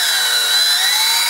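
Power drill spinning at high speed, widening a hole in a tricopter part: a continuous bright high-pitched whine, loud and close, steady without pause.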